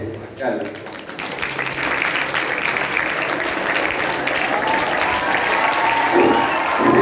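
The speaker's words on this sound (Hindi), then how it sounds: "तालियां बजाना" An audience at a Teachers Day event breaks into sustained applause, a dense, loud wash of clapping that stays steady and swells slightly toward the end, with voices mixed in underneath.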